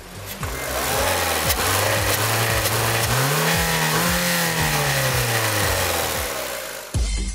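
A Renault Duster petrol engine revs up loudly from idle to 3000 rpm, pitch rising and holding high for several seconds before dropping and cutting off abruptly.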